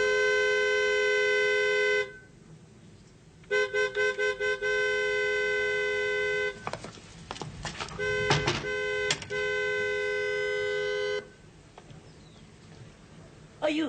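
A car horn blares in long sustained blasts, then a rapid series of short toots, with scraping noises in between and another long blast near the end.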